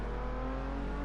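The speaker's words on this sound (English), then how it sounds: "that gearbox didn't sound particularly healthy" A racing car's engine and gearbox drone loudly and steadily in Assetto Corsa, a sustained close mechanical hum with a faint whine, the gearbox sounding unhealthy, with no talking.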